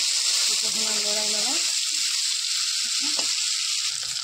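Fish curry frying in a pan is stirred after salt goes in, giving a steady loud sizzle throughout with a short scraping stir near the start and brief tonal kitchen noise.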